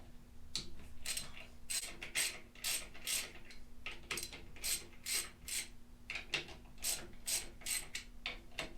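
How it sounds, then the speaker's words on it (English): On a 1989 Harley-Davidson EVO Softail custom, a ratchet wrench loosens the clutch adjuster plate nuts with a steady run of close, crisp metallic clicks in short bursts and a low hum in the background. "We are going to unscrew the adjuster nuts."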